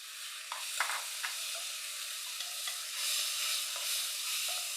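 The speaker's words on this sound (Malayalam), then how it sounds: "ഇനി ഇതിലേക്ക് നമ്മുടെ അടതാപ്പം കൂടെ അങ്ങ് ഇട്ട് കൊടുത്തേക്കാം" Air potato pieces land in a pan of spiced masala with chili and coriander powder and garam masala, giving a steady close sizzle with a few scraping stirs and light clinks.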